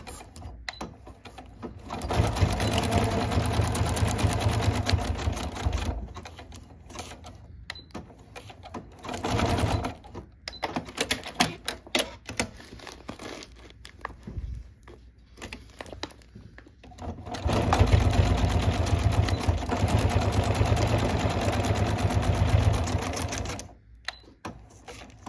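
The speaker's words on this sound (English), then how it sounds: "Let's switch back to a zigzag stitch, and I am just going to secure it here and here." Sewing machine running a zigzag stitch on tote bag handles, with three long whirring bursts of rapid needle clatter separated by pauses and brief short stitching runs, close and fairly loud.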